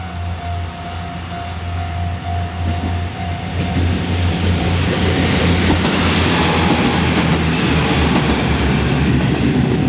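A train rumbles past a railway level crossing close by with loud, steady clattering and rushing noise, a faint tone ringing underneath at the start.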